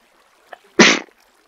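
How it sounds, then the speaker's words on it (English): A single loud, close human sneeze, a brief sharp burst after a soft intake of breath, alone in a quiet room. "I must have this sneeze on camera."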